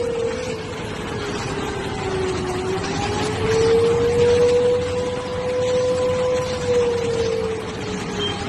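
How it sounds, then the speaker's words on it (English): An air-raid siren wails, rising and falling steadily over a continuous rumbling background, sounding distant and sustained throughout, heard in a Pakistani city such as Lahore during a wartime alert. "those are sirens going off in Islamabad, in Lahore, in Sialkot"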